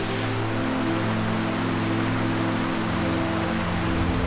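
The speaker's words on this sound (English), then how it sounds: "We've just been hit by the heaviest rain yet, so we're taking shelter to see when it will pass." Heavy rain pours down steadily and loudly as a dense, unbroken hiss close by, with a low rumble underneath and no voices.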